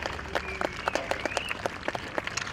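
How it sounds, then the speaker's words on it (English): Crowd applause for the stewards at the Singleton Autumn Countryside Show, a busy outdoor patter of many clapping hands at moderate distance with faint voices mixed in. "Give them a round of applause for all the work that they do behind the scenes every week."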